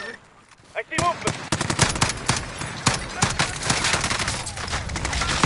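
Rapid bursts of automatic gunfire in a shooting video game crackle close and loud, with dense shot after shot in quick volleys following a brief quiet start.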